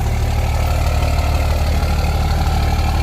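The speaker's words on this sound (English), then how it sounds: "I added a little turnout to the exhaust, but that's what it sounds like" A Cummins diesel engine idles through a 5-inch stainless steel exhaust with a small turnout, giving a deep, steady, rumbling drone with a low pulsing throb that stays constant and close.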